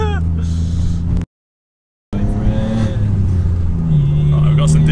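An Alfa Romeo 147 GTA with the Busso V6 revs loudly from inside the car, its engine note rising and holding, cut by a brief dropout, with people talking over it.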